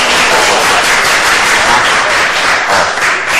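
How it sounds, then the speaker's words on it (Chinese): A large indoor classroom audience claps together, a dense, loud, steady wall of applause that fills the whole stretch without a break. "我们鼓掌欢迎这一组生态经济大未来。"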